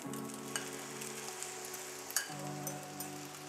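Ground beef mixture spooned onto warm rice and eggs sizzles steadily in a hot pan for Mexican fried rice, a close, even frying hiss with faint clinks of a utensil, briefly shifting in tone midway.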